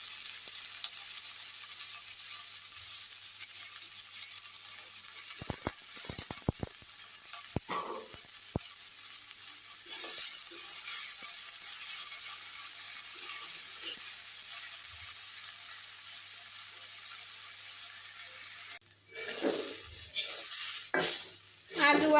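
Potatoes and vegetable stems fry in oil in a wok with a steady, even sizzle, broken by a few sharp clinks of a utensil on metal and some stirring and scraping near the end.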